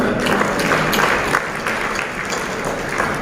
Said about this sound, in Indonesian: Tepuk tangan buat Pak Erlangga